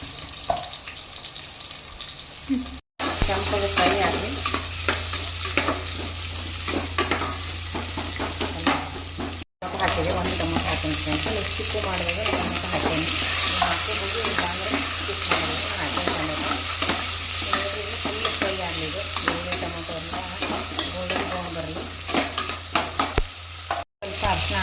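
Steady, loud sizzling of four onions frying in a hot pan as tempering for chicken biryani, with occasional stirring scrapes, continuous throughout with a couple of brief cuts.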